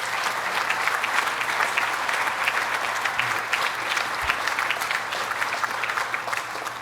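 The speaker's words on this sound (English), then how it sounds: "Let's give them a round of applause." Sustained crowd applause at an outdoor summer event in the Adirondacks, dense steady clapping from many hands without cheering or speech.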